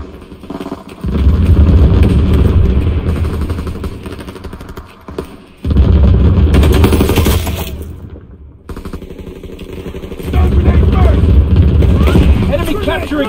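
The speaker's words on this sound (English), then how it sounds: "Enemy flak incoming." Flak explosions and gunfire from the Call of Duty: WW2 game rumble in long, loud, dense bursts, fading in and out while game voices talk over the barrage.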